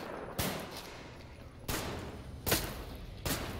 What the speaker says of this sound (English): How can he shoot us so fucking accurately with a fucking shotgun from there?